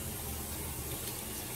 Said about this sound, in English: So take the time to really wash your hands.